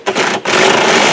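A power tool whirs loudly and continuously with a brief dip, spinning off nuts with a 10mm socket on the door of a GMC Sierra pickup, heard up close.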